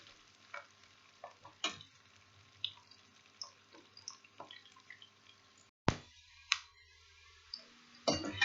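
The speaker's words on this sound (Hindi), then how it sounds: "चलिए हम इनको फ्राई कर लेते हैं।" Bitter gourd pieces frying in a pan for a qeema karela dish give a quiet, steady sizzle broken by soft ticks and pops, then a few louder clatters of stirring near the end, with no talk.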